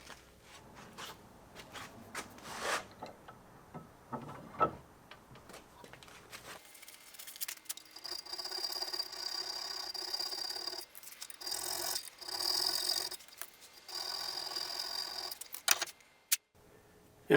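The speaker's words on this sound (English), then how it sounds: "All these power tools, and I'm filing by hand." A hand file rasps against metal on the rear axle housing of a 1955 Ford Fairlane, with scattered strokes and clicks at first, then a longer run of steady rasping strokes at close range.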